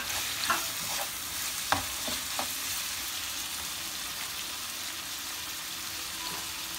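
Minced meat and tomatoes cooking in a pan for eggplant moussaka, a steady close sizzle with a few scraping stirs and soft clicks near the start.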